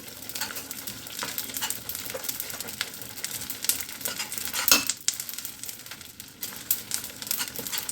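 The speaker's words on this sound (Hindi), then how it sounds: "गोंद हमारा फ्राई हो रहा है, फूल रहा है।" Edible gum (gond) fries and puffs in hot oil, a steady soft sizzle full of small crackles and pops, with one louder crackling burst midway.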